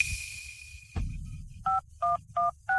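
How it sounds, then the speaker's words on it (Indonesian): Telephone keypad dialing 911: a few dial tones, then four evenly spaced loud beeps from pressed keys, close and clear with no talking. "Jason, ayo telepon 911"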